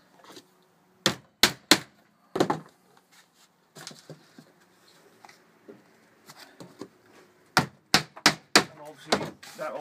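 Roofing tacks are hammered into a wooden nest box in sharp, close taps, first a quick cluster of three, then scattered single blows and a final rapid burst, with light handling noises between.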